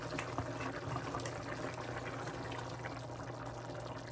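Cornstarch and water slurry poured from a mason jar into a hot pan for a shepherd's pie gnocchi dish, a steady watery pouring and sizzling wash lasting several seconds, close and fairly even in loudness.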